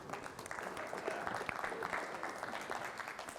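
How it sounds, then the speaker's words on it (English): Audience applause at a healthcare talk in Owensboro, Kentucky, a steady wash of clapping holding at moderate loudness for a few seconds with faint crowd murmur beneath. "Y'all give her a round of applause"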